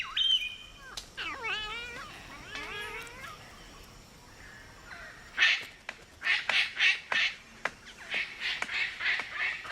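A palm cockatoo calls, first with wavering, whistled notes, then a loud run of harsh, rasping squawks repeated in quick rhythmic bursts, close and clear.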